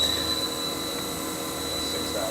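A new Haas spindle on a 2008 Haas VF3B CNC vertical mill with a two-speed gearbox spins at about 2,000 RPM, giving a steady, even machine whine with a high tonal hum and constant background noise.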